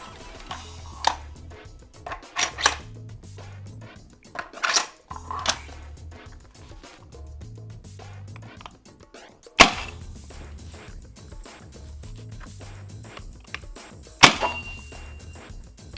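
Several Nerf Doom Super Shotgun darts, Worker Gen 3 heavies loaded in shells, fired at a target: sharp thunking shots and impacts spaced a few seconds apart, with clicks and clattering handling of the blaster between them.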